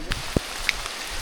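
Rain pattering on a mountain trail during a 50 km ultra trail race on Lawu, with a steady broadband hiss of falling drops and a couple of sharper nearby taps.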